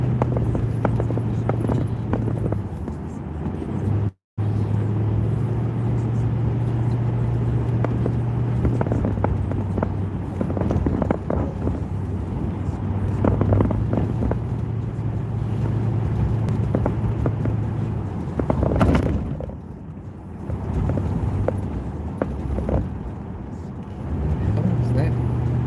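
Road traffic on Charles Street heard from inside a moving car, a steady engine and road rumble with a low constant hum, brief dropouts, and a person talking over it throughout.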